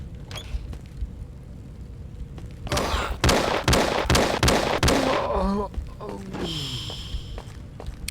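A rapid volley of shots from the horror adventure game Robert D Anderson & The Legacy of Cthulhu, loud and close, about half a dozen sharp cracks in quick succession with a voice talking before and after.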